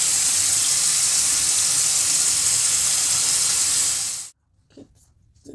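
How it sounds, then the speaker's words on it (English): A sink tap runs loud and close in a steady rushing stream while a face is rinsed, then cuts off abruptly and leaves a few faint drips and splashes. "So I'm going to go ahead and rinse this out."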